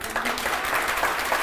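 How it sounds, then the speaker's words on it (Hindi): A crowd of students at a Teachers' Day celebration in a Patna coaching centre applauds a teacher, dense steady clapping filling the room briefly and fairly loud. "भरत सर के लिए पहले एक बार जोर से तालियां"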